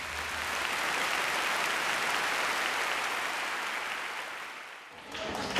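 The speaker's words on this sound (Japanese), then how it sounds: "観客席からは惜しみない拍手が送られました" Sustained audience clapping after a junior high school band's stage concert of local music with song and dance, a dense, even wash of applause that dips briefly near the end.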